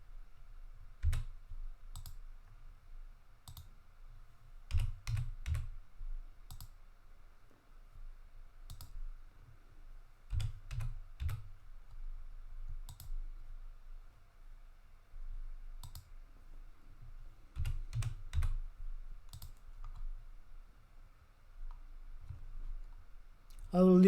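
Keys tapped and clicked on a computer keyboard, in scattered short bursts and single presses, close and fairly quiet, with a low steady hum beneath.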